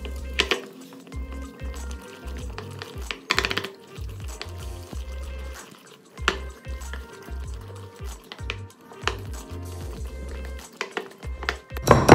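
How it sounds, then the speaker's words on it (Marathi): Small amounts of water trickle and drip into a bowl of alu vadi batter amid repeated soft thuds and scraping of mixing, close up. "आता थोडं थोडं पाणी घालून घेऊ।"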